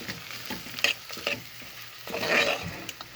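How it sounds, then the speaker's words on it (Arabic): Whole spices for chicken rice stirred in a hot pan, a soft sizzle with clinks and scrapes of a spoon against the metal and a brief louder burst of frying near the end. "بعد كده هنحط البهارات كلها الصحيحه اهو فيها، ونقعد نقلب اهو"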